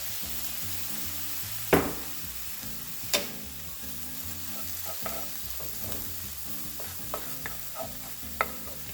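Chicken fried cauliflower rice being stirred in a hot pan with soy sauce, a steady sizzle under scraping spatula strokes, with a few sharper clanks and taps against the pan.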